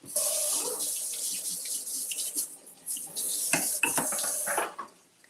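Tap water runs steadily into a kitchen sink during cleanup after cooking, with clinks of dishes and pans handled under the flow, close and continuous before easing off at the end.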